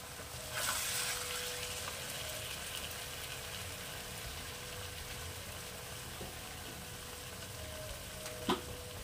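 Cashew nut and red chilli paste frying in a pan, a steady soft sizzle with a brief bubbling burst near the start and a small clatter near the end, no voices.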